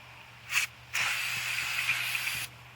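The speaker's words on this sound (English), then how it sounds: "I'm gonna go ahead and spray that with brake cleaner and kind of clean all that off." Aerosol brake cleaner sprayed onto the brakes of a 2007 Honda Civic, a short hissing burst and then a steady two-second spray, close by in a quiet garage.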